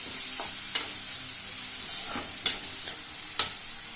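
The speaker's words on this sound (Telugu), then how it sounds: "కొద్దిగా సాల్ట్ వేసి ఉల్లిపాయలు వేయించుకోవాలి." Onions frying with a pinch of salt in a pan for an egg and onion masala give a steady, close sizzle, broken by three sharp scrapes or taps of a spatula against the pan.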